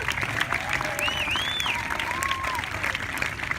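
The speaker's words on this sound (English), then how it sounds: "Big round of applause for Veronica." A crowd applauds Veronica at a protest rally against greyhound racing, steady clapping running the whole time with a few voices and calls rising over it.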